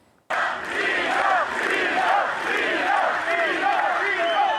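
Large arena crowd cheering and shouting at a concert at the Live Arena in Agrigento, a sudden loud roar of many voices that stays sustained and dense throughout.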